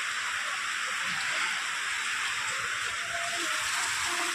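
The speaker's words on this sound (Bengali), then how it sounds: "বাইরে তো অনেক বৃষ্টি" Heavy rain falls outside and is heard from indoors as a steady, even hiss that continues unbroken throughout without any noticeable voices.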